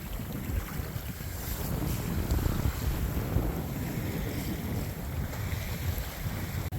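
A sailboat moving briskly at about seven knots through foggy water, with steady wind rush buffeting the microphone and water washing along the hull, continuous and fairly loud throughout with no talking.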